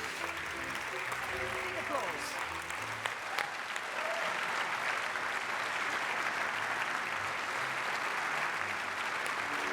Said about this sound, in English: now a big applause for all 6 of them